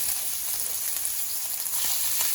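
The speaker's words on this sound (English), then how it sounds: "Start seasoning it up, browning it up a little bit. Should take a couple minutes in this oil." Stew meat for goulash browns in hot oil, a dense, steady close sizzle that hisses without pause for a couple of seconds, no one speaking.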